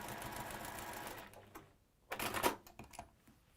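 A sewing machine stitches quilt block seams in short bursts: a quick rattling run that fades out, a pause, then a louder burst of rapid needle clatter, close and fairly quiet.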